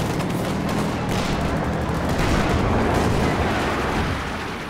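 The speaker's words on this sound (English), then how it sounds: "240mm artillery" 240mm artillery barrages in Company of Heroes 2 rumble as a dense, continuous wash of booming impacts and blasts, loud and steady and easing slightly near the end.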